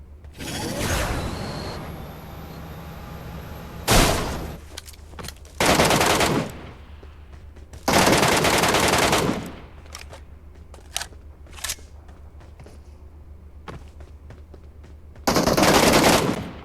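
Bursts of MK14 rifle fire in PUBG Mobile, several loud rapid volleys of close shots separated by pauses with softer single shots and mechanical clicks between, no talking.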